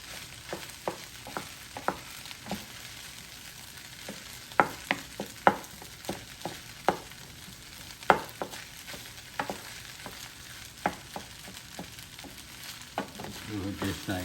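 Turkey fried rice stirred in a Power XL electric cooker, a steady low sizzle with repeated sharp scrapes and clicks of a utensil against the pot at an irregular pace, close by.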